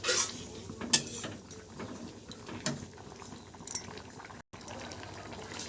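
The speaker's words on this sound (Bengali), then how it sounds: "আরও কিছুক্ষণ ঝোলটা ফুটিয়ে নেব।" Ridge gourd and shrimp curry gravy simmering in a pan: a steady low bubbling hiss with occasional sharp clinks and pops, close and moderately quiet, with no talking.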